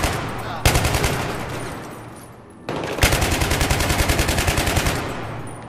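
Light machine gun fire in the video game Battlefield 3: two sustained bursts of rapid automatic shots, loud and close, separated by a short lull with a brief pause at the start.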